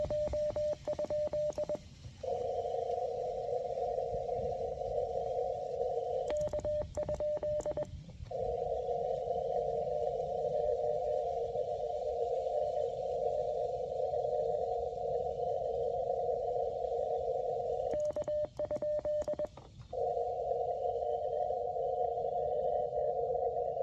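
Faint ham radio CW signal sitting near the noise floor, a steady tone keyed in long dashes and short breaks, barely above hiss, with no voices.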